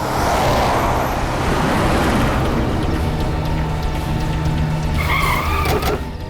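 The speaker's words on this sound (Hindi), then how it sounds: "भगाओ गाड़ी सचिन, भगाओ।" A car speeds off with its tires skidding in a crime drama scene, making a loud, continuous roar of engine and tire noise that stays close throughout, with no talk.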